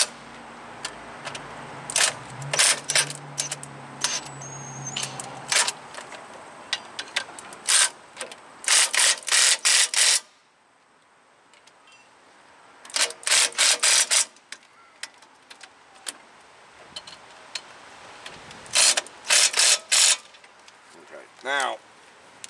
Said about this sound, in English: I'm not gonna rail these in, I'm just gonna spin them in lightly.